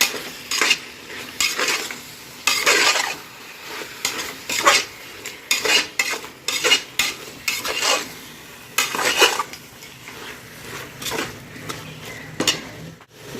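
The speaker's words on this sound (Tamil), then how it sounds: "காளானை போட்டு நல்லா அது வந்து இந்த மசாலாவோட சேர்ந்து நல்லா வதங்கட்டும்." Mushrooms sautéed in masala in a pan, stirred with a metal utensil that gives repeated loud, close scraping and clanking strokes in an irregular rhythm over a faint background sizzle, with no speech.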